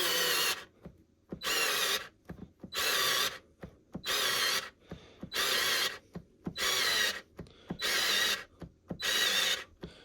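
Parkside cordless screwdriver set to maximum driving a screw in repeated short pulsing bursts, about eight whirring pulses with brief clicks and pauses between, close and alone.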